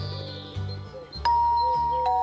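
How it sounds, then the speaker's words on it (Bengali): An electronic doorbell chimes with a two-tone ding-dong, clear and close, its tones ringing on steadily. "calling bell টিপতেই"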